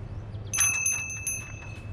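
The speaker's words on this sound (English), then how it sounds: "A working bell." A working bell salvaged as scrap is struck once, its bright sustained ring holding with several clear overtones and slowly fading, alone in a quiet setting.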